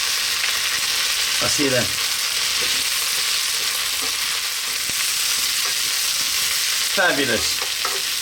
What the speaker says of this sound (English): I'm now going to put in our cauliflower. I was about to say broccoli. And again, let's go for 3 more minutes, stirring it around.